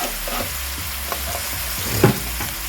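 Corned beef brisket searing in hot oil in a pan, a steady close sizzle with faint crackles and one brief clatter near the end; no one speaks.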